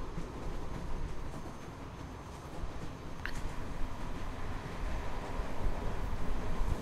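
Steady rumble of a moving train, a continuous low rolling roar that swells slightly toward the end, with a brief high metallic squeal partway through and no talk.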